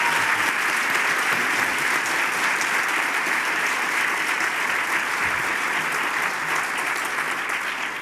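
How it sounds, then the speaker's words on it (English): Steady, dense audience applause welcoming candidates at a gubernatorial primary debate, a large crowd clapping continuously at even volume for about eight seconds. "Let's welcome them with applause tonight."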